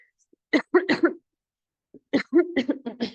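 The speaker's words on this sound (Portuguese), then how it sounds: "Olha a tosse." Two bursts of throaty coughing, a few short hacks each, close and fairly loud, separated by a second of silence.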